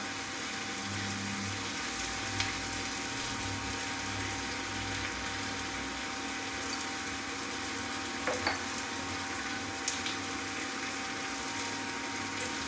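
Coriander powder is stirred and sautéed in a pan while making a mushroom curry. A continuous soft sizzle and frying hiss runs throughout, broken by a few faint clinks of the spoon, with no voices.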